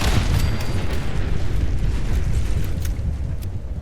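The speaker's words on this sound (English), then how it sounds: "Oh, we survived the explosion." A large explosion in the Fallout 76 video game, a loud sustained rumble with dense low-end boom and crackling bursts that roll on steadily without a clear break.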